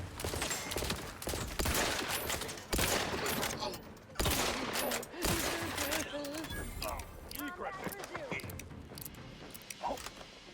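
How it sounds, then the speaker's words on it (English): Gunfire from a firefight in The Outer Worlds 2 video game rattles in loud, dense bursts and overlapping shots, with clanks of weapon mechanisms and game voices talking between volleys. "These guys are shooting each other."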